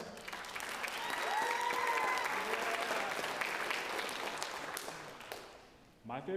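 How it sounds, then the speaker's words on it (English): A school audience gives a long, loud round of applause for the next student speaker, dense steady clapping that fades slightly toward the end, with some whistles and voices mixed in. "Please, big round of applause for our next speaker."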